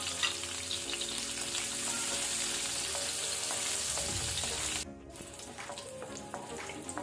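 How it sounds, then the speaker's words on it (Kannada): Garlic pieces frying in hot oil for clams fried rice, a dense, loud crackling sizzle that runs steadily, drops abruptly for a moment, then continues a bit quieter. "ಎಣ್ಣೆ ಬಿಸಿಯಾದ ನಂತರ ಗಾರ್ಲಿಕ್ ಪೀಸಸ್ ಬೆಳ್ಳುಳ್ಳಿ ಹಾಕೋಣ"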